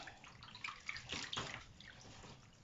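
Water splashing and running as mushrooms are rinsed in clear water, a short burst of sloshing and trickling that swells in the middle and fades, close and fairly quiet.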